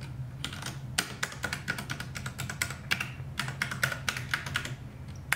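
Steady, fairly close typing on a Ducky One 2 Mini RGB keyboard, crisp key clacks in irregular quick bursts with a low background hum underneath, no voices.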